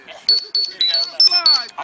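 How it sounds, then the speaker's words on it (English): A mobile phone rings loudly in a room, a repeating electronic ringtone pattern of short bright tonal bursts, with people talking over it. "that's your phone going off"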